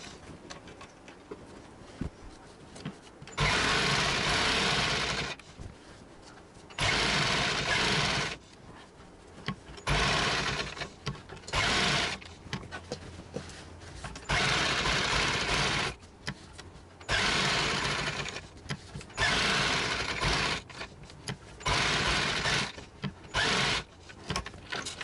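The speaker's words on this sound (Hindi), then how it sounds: "बड़ी सिलाई करके फिक्स करेंगे।" A sewing machine runs long basting stitches to fix fabric in place for a designer sleeve, sounding as several whirring bursts of a few seconds each, separated by short pauses, close and steady without talk.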